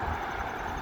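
Road traffic noise at Bear Lake, Michigan, a steady broad rushing hum of passing vehicles, continuous and moderately loud for a brief moment.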